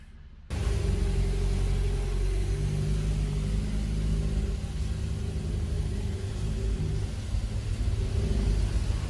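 A car engine strains on a steep, narrow road in China, starting abruptly and holding a loud, steady low rumble with a slight drop partway through.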